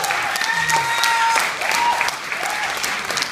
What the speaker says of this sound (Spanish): Le quiero que le den un aplauso.